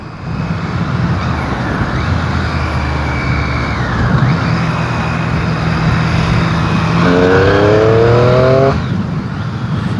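A Triumph Street Triple 765 R motorcycle engine drones steadily and loud while riding through traffic, its low hum holding level before a brief rising sweep near the end, with road and wind noise throughout.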